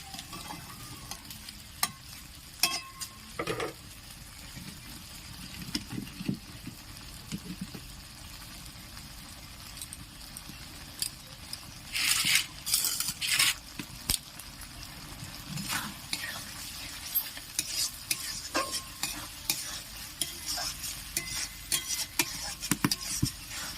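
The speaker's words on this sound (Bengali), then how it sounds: "মশলাটা থেকে যতক্ষণ না তেলটা বেরোচ্ছে ততক্ষণ ভালো করে কষে নিতে হবে" Spice paste frying in oil for a prawn and pointed gourd curry, with steady sizzling and intermittent scraping stirs of a spoon in the pan, fairly close, while a voice talks at times.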